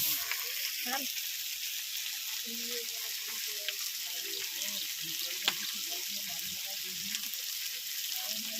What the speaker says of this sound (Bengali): আমাদের মাংস কষানো হয়ে গেছে